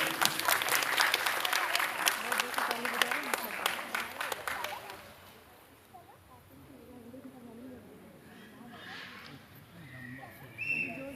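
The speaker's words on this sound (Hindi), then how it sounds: "प्लीज आप लोग तालियों में कमी मत कीजिए।" An awards-ceremony audience at a youth achievement awards event bursts into loud, dense clapping for about five seconds, then the applause dies away into a quieter room with murmuring and a voice over a sound system.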